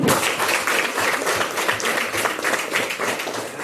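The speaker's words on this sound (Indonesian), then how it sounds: "Tepuk tangan" A fifth-grade primary school class claps together in the classroom, brisk rhythmic hand clapping from many children that stays loud and continuous throughout.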